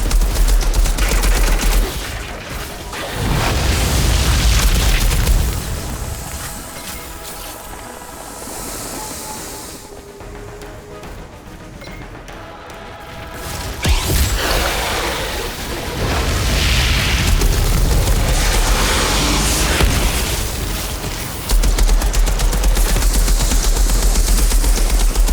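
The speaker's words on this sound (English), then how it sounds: "Slow firing assault rifle, but I mean it does pretty good damage, I guess." Heavy bursts of assault rifle fire from the shooter game Outriders, loud booming shots in clusters with a quieter lull in the middle, and no talking over the gunfire.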